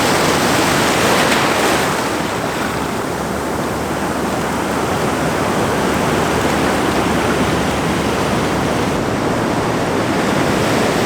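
Ocean surf washing up a beach shoreline: a continuous, loud roar of breaking and receding waves with broad hissing wash and no distinct pauses, heard close by and without voices.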